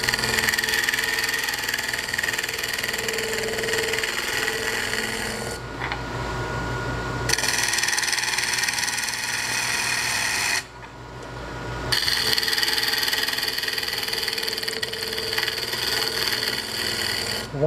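Wood spinning on a lathe at 1200 RPM as a turning tool works it, making rough rasping, scraping bursts that stop briefly twice before resuming, close and steady with no talking.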